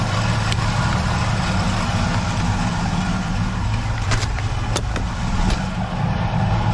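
A 1976 Nova's engine running close by after a battery replacement, a steady loud low idle rumble with a few sharp clicks and taps near the end, no talking.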